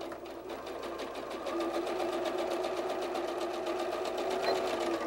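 A sewing machine stitches fabric for a bird softie, its needle hammering in a fast, even rhythm up close, steady and continuous with no talking.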